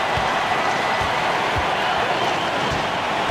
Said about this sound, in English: And the crowd now is in a frenzy.